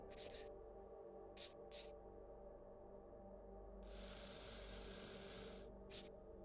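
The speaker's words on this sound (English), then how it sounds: "we can spray them down with a little bit of oil." Oil is sprayed onto a rough-condition gun in the VR game Into the Radius: several short hissing spray bursts, then one long steady spray lasting about two seconds, followed by another brief puff, over a quiet background hum.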